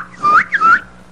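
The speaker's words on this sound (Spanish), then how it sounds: "Entonces silbé." A person whistles two short rising notes in quick succession, clear and close, with nothing else heard.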